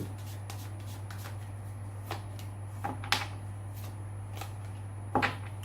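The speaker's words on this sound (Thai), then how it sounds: "ไพ่สลับกันได้อะ" Tarot cards are shuffled in several quick, crisp riffles at close range, spaced out over a quiet steady hum.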